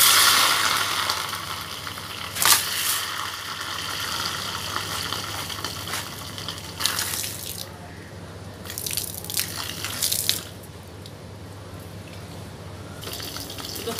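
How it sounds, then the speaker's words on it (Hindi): Water is poured onto hot melted candle wax, giving bursts of loud hissing and spluttering splashes that rise and fall over about fourteen seconds, with no talking. "तो दोस्तों, अब मैं डालने जा रहा हूँ इसके अंदर पानी।"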